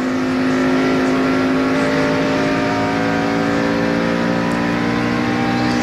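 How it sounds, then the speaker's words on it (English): NASCAR Winston Cup stock cars racing at Pocono Raceway in 2001, a loud steady engine whine with strong droning harmonics, cars running close together at speed. "There's Stewart pulling up closer on his teammate"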